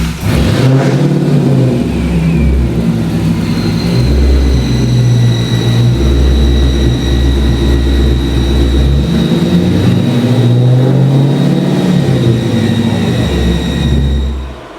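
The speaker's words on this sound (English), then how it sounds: "Let me try to rev it out." Dodge Hellcat V8 revved hard in repeated surges, a loud close rumble with a whining top note that rises and falls across the run while the engine is checked for a strange, inconsistent noise.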